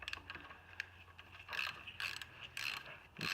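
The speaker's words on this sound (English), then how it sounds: "these special extractor twist sockets, whatever the heck you call them, they work pretty dang well" An extractor twist socket turns on a rusty, rounded bolt with bursts of ratcheting clicks and grinding metal scrapes in several short, loud pulses over a quiet background.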